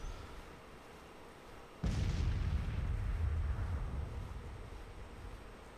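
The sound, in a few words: artillery fire in the video game Grand Tactician: The Civil War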